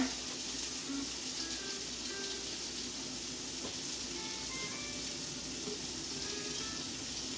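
Garlic, black garlic and onions sizzle in a hot pan with a steady, even crackling hiss that holds at a constant level throughout, with no talking.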